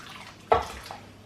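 Water is poured into a pan of carrots, giving a couple of short splashing bursts close by in a quiet kitchen.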